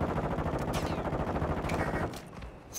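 Rapid, loud machine-gun fire in a video game shooter rattles for about two seconds, a dense stream of shots that cuts off abruptly, leaving a quieter tail with a few faint clicks.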